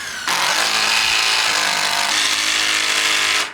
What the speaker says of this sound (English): And then I'm going to drill in the 65 mil hex drive self drillers.